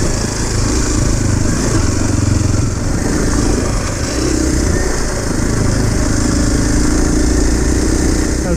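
A Kawasaki KLX 230 motorcycle engine drones continuously while riding off-road during slide-turn practice, a loud, close, steady mid-pitched hum with slight throttle variation and wind noise.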